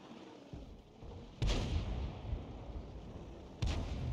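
Two heavy cannon blasts from a GW Panther self-propelled artillery gun in World of Tanks, each a sudden loud boom with a rumbling tail, a couple of seconds apart over a quiet background.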